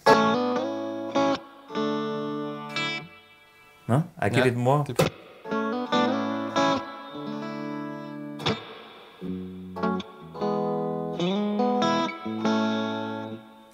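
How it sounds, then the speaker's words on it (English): Electric guitar played through a Fender Blackface amp with a Mercury edition plate reverb, sustained chords ringing out with lush reverb tails, interrupted by brief spoken exchanges between players. "And now I give you the Mercury edition, which is more a plate reverb."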